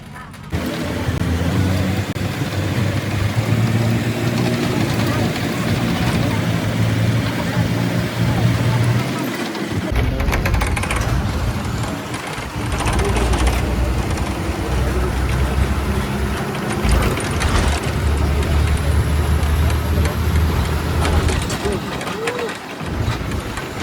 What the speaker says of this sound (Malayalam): ഇങ്ങനെ നമ്മൾ അങ്കോളയിൽ നിന്ന് ഗോകർണയിലോട്ടുള്ള ബസ്സിൽ കയറി കേട്ടോ